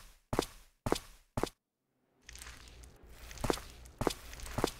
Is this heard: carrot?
no